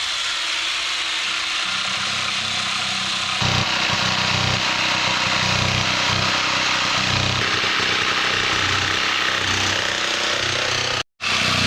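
A hacksaw cuts a plexiglass porthole sheet on a Sigma 362 sailboat, a close, loud, rhythmic rasping of back-and-forth strokes that continues steadily with a brief gap near the end.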